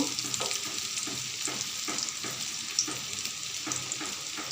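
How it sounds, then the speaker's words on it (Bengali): Chopped coconut fries in hot oil with a bright, steady sizzle, and a spatula stirs it in regular scraping strokes every half second or so, heard close up with no voices. "এখন কিছু নারকেল কুচা করে রেখেছিলাম সেটা ভেজে নেব।"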